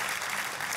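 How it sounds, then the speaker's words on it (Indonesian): Congregation at a church service claps for God, a brief, dense burst of many hands applauding loudly together. "Kita kasih tepuk tangannya"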